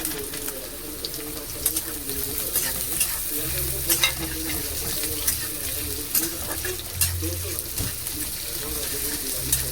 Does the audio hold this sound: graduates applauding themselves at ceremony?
no